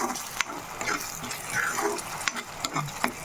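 Tomatoes and green chillies sauté in oil for a quail gravy, giving a soft, continuous sizzle with intermittent stirring scrapes and clicks; no talking.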